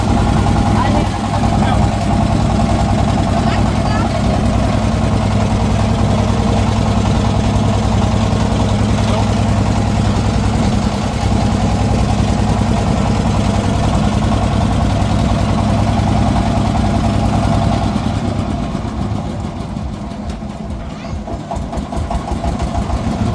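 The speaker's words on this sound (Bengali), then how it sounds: "এই দেখুন তারা বাইজের নৌকা চলে যাচ্ছে এদিক থেকে ওদিক" A motorized wooden boat putters past on floodwater in rural Pabna. Its steady, mid-pitched engine drone holds close and loud for most of the stretch, then drops away near the end as the boat moves off, with a voice talking over it.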